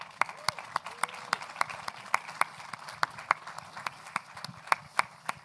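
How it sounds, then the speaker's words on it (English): A live stage audience at a flight simulation convention claps, sharp irregular hand claps of a modest crowd sounding close and steady under faint background noise. "Give him a big applause."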